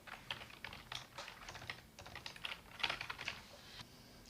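Fingers tap quickly on a computer keyboard in soft, irregular bursts of clicks, close and fairly quiet, with brief pauses between runs of keystrokes.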